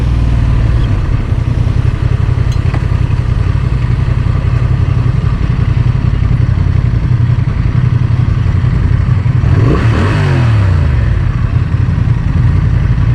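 A Honda Transalp motorcycle on a test ride drones steadily at a constant speed, loud and close, with wind rush on top and a short rise in engine pitch near the end.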